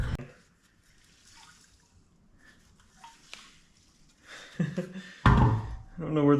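Hollow knocks on a Honda Odyssey FL250 part that sounds full of water, with a sloshing thud, mixed with quiet handling noises and a few spoken words near the end.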